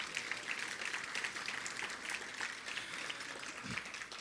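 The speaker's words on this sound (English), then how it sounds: "Let's give them all a huge round of applause." Crowd applause at a 2018 State of the Community event, steady and fairly distant, a continuous wash of many hands clapping for about four seconds.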